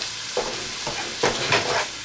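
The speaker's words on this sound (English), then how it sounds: "Make sure it's nice and stirred up." Ground meat sauce sizzling in a frying pan as a spoon stirs and scrapes through it, several distinct scraping strokes over a steady crackling fry, close and clear.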